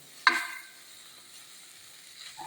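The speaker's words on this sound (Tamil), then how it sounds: "ஒரு 2 மினிட்ஸ் கொஞ்சம் அப்படியே லைட்டாக வறுத்து எடுக்கலாம் நம்ம" A spoon stirs semolina and chopped vegetables as they lightly dry-roast in a pan for vegetable wheat rava upma, giving one sharp scrape followed by a quiet, faint sizzle and a softer stir at the end.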